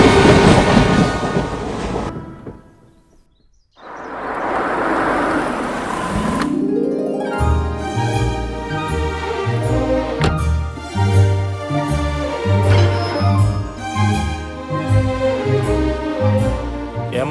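A passenger train runs on its rails, a steady rhythmic clickety-clack of wheels over the joints with a rumbling car. It is loud and close, with a brief drop in level near the start. No one speaks.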